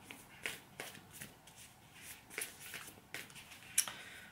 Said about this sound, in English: Not the easiest deck to shuffle